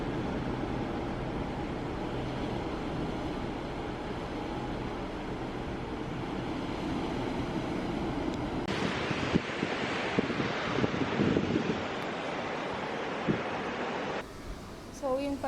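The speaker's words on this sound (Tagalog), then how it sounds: "Sa likod natin dagat." Sea waves and gusting wind on the Taiwan coast roar steadily, with microphone wind buffeting throughout and a voice briefly talking near the end.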